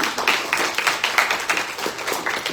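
An audience at a panel event on the Marianas diaspora gives a round of applause, bursts of clapping pulsing unevenly at moderate loudness for a couple of seconds.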